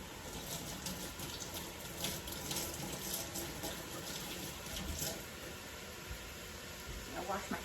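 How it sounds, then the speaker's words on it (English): Running kitchen tap pours steadily while hands are washed beneath it during cooking, a continuous close splashing hiss with small shifts in flow. "I wash my hands a lot when I'm cooking"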